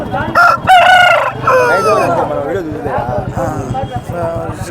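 A heavy rooster crows loudly nearby in one drawn-out call at a weekly poultry market, followed by a person talking over low clucking and farmyard noise.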